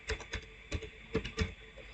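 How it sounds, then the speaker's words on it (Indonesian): Close, crisp keystrokes on a computer keyboard as commands are typed and enter is pressed, about half a dozen distinct clicks at an uneven pace with quiet gaps between them. "Kemudian kita enter."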